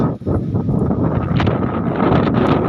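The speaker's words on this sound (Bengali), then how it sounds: "বৃষ্টি আসছে, প্রায় 2-4 মিনিট বৃষ্টি হয়েছে, আর বাতাস প্রচন্ড বাতাস, আর বাতাস প্রচন্ড ঠান্ডা।" Strong, very cold wind blows during a brief rain shower, a loud continuous roaring rush buffeting the microphone with gusty swells and rustling.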